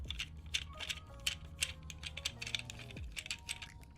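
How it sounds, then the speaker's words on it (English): A camera ball head mount is screwed onto a mobile bracket holder for a ring light, making quiet close-up clicks and ratcheting rubs. A short scrape comes near the end. "you can screw the camera ball head mount to the mobile bracket holder"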